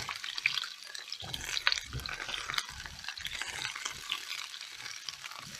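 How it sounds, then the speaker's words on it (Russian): Eggplant and mushrooms fry in a hot pan at home, a steady close sizzle with stirring scrapes and clatter running through the whole stretch without talk. "И мы все закидываем сразу в нашу сковородку."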